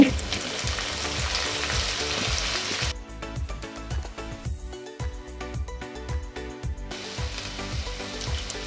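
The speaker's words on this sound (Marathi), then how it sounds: "यासाठी या कांदा टॅमॅटोवर फ्राय करून घेते" Chopped onion and tomato frying in a pan for a spicy Marathi egg curry, a steady crackling sizzle that drops briefly quieter mid-way, with occasional stirring scrapes.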